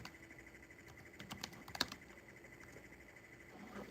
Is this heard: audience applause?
no